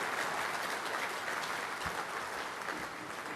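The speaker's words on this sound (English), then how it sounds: "Give a big round of applause to great Barry Cable" Dense, sustained applause from an audience in a room at a testimonial function honoring former ruckman Barry Cable, a steady wash of many hands clapping that stays loud throughout with a slight taper at the end.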